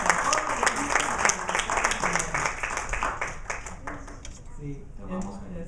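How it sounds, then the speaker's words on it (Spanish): Audience applause in a Spanish-language gathering, steady clapping from a crowd with voices talking over it throughout, fading somewhat toward the end. "un aplauso para todos"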